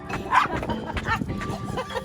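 Dogs yip and bark in short bursts at close range in a home, mixed with lively household commotion and people talking.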